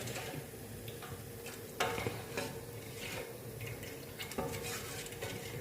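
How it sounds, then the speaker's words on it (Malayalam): A utensil stirs salted ragi dosa batter in a bowl, making soft scraping strokes and a few sharper taps close up against a steady background hiss, with no talk. "ഇത് നന്നായിട്ട് ഇളക്കി കൊടുക്കാം"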